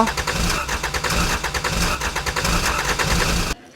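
A heavily loaded old classic Mini labours with a rough, uneven engine note, sputtering and rising in rhythmic surges before cutting out abruptly near the end.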